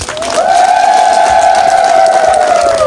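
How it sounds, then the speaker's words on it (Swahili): Audience at a Mgodechi campaign fundraising event bursting into loud, sustained applause after a donation total is announced, with a steady tonal hum or whistle running through the clapping. "Tupigie makofi."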